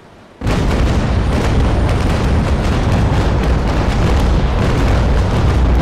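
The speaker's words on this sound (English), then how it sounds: "I'll just turn towards him and fire off probably a final broadside and hopefully seal his fate" Cannon broadside from the sailing warship Santissima in the naval combat game Naval Action: a sudden loud onset, then a dense, continuous rolling rumble of overlapping booms lasting several seconds.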